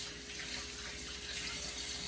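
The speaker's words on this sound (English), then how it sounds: "let me rinse my hands off here" Tap water runs steadily into a sink as hands are rinsed beneath it, a close, even hiss of flowing water with no one speaking.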